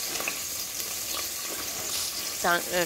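Chopped onion frying in a pan for spinach khichdi, a continuous close hiss and crackle of oil, joined near the end by brief voiced sounds.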